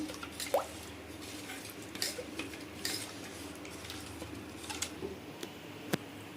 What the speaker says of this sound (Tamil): நான் வந்து ஜல்லடை வச்சு ஊற்றுறேங்க